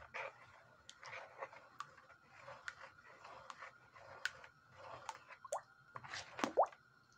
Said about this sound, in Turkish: suyu şöyle bir İki kepçe alıp yavaş yavaş karıştırıyorum.